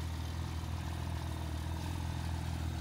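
A powerful supercar engine rumbles steadily at idle on a Dubai street, a deep continuous throb close by with no voices.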